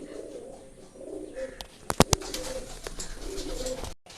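Madras pigeons coo softly in low, rolling phrases, with a few sharp clacks and rustles midway, close by and fairly quiet.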